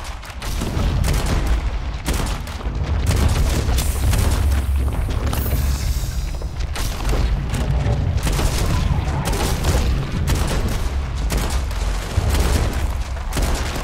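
Heavy gunfire from big guns in the video game Starfield, with rapid booming shots in dense bursts that run loud and continuous throughout, with only brief gaps.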